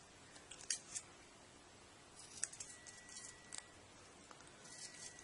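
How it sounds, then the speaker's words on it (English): Scissors make angle cuts in a small model airport jetway part, producing a few quiet, crisp snips spaced irregularly, close up in a hushed room. "They're usually easier to do them with the scissors, so that's why I don't do them with the knife"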